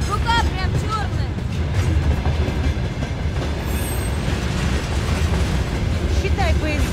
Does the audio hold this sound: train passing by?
yes